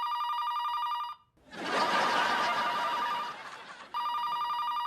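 A telephone rings with a steady electronic tone, then a loud, noisy burst drowns it out for a few seconds before the ringing returns clearly at the end.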